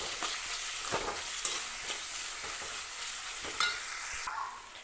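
Chopped onion with a pinch of salt sautéing in hot oil for a roasted clam meat dish, a steady close sizzle broken by several soft stirring scrapes of a spoon through the pan, with no voices.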